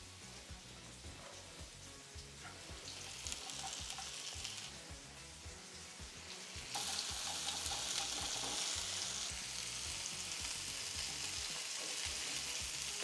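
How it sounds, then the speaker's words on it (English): Mushrooms fry in a pan with a steady, close sizzle and occasional stirring scrapes, growing louder and hissier partway through, with no talking. "So we're gonna cook the mushrooms first."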